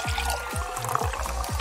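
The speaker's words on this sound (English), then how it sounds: "I'll just pour another drink." Soda poured into a glass at a party, a continuous fizzy liquid stream with a few rhythmic low gurgles repeating under a busy background.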